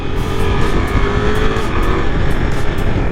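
A Ducati Multistrada V4S motorcycle engine roars close and loud, pulling hard and steadily under acceleration with a dense, continuous drone.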